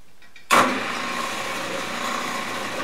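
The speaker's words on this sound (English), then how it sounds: "And that noise you hear is the belt." After a moment of quiet, a drill press switches on and its belt runs with a steady mechanical whir and hum, continuous and fairly close.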